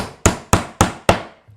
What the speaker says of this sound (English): this is an old soft face hammer I picked up at a yard sale somewhere